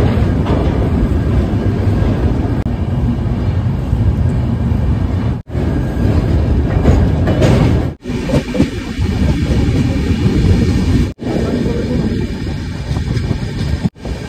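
Puri–New Delhi passenger train running across a bridge over the Ganges at Kashi on a foggy morning, a loud continuous rumbling roar with a few brief dips, close by and steady throughout.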